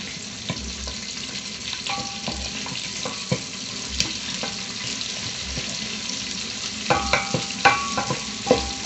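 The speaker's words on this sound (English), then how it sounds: "I let my meat tend to be a little bit brown." Meat browning in oil for pilau, a quiet ongoing sizzle with repeated clinks and scrapes of a spoon stirring against the pot, growing busier toward the end.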